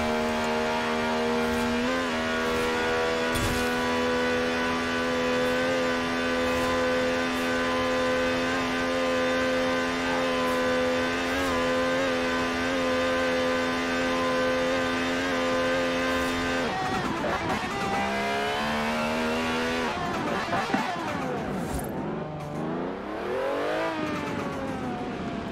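A 2016 Dodge Viper ACR in Forza Horizon 4 roars at sustained high revs with a few quick shift blips, then falls and climbs through sweeping pitch changes as it brakes and accelerates through corners, loud and alone.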